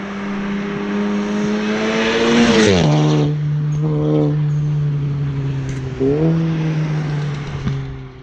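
A VW Golf 7R tuned to stage 3 with about 500 hp, fitted with a custom stainless HKS exhaust, idles loudly up close and is blipped twice into sharp revs, settling back to a steady burbling idle each time.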